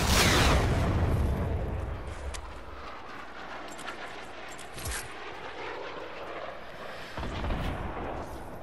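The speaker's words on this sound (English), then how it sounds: "I think that's a homing missile, never mind." Homing missile explosions in a first-person shooter video game, a loud booming blast at the start that decays into a rumbling roar, with scattered thuds and a mid-clip impact, no talking.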